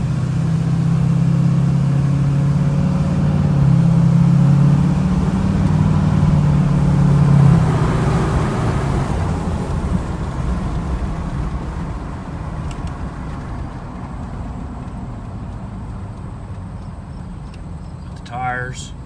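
A 2007 Chevy Silverado 2500 HD LBZ Duramax with a 3-inch lift drives along, engine hum fading into steady tire and road noise heard from inside the cab, with a voice talking over it.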